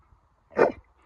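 An American Staffordshire terrier gives a single short, sharp bark on command, close and loud, with near silence before and after.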